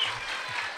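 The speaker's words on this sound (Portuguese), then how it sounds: "Pode melhorar essas palmas" Brief burst of studio audience applause on a podcast set, a dense wash of clapping from a small crowd, fairly loud and continuous for under a second.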